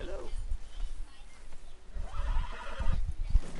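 A wild horse in Red Dead Redemption 2 gives a sharp, close whinny at the start, then hooves shuffle and clop nearby while a person talks over the later part.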